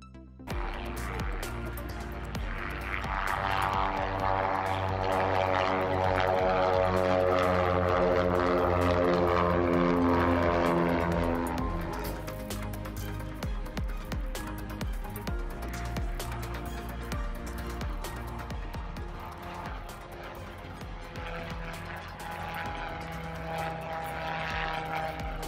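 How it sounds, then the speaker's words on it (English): The hybrid-electric VoltAero Cassio demonstrator and a Cessna Skymaster take off with a propeller engine drone that swells loud and near over the first ten seconds, then settles into a steadier, somewhat quieter roar. "This video clip compares the noise levels between a Cessna Skymaster and the Cassio demonstrator during takeoff."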